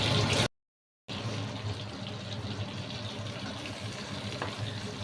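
Small fish frying in a pan in a home kitchen, a steady dense sizzle running continuously after a brief silent gap, close and moderately loud, with no talking.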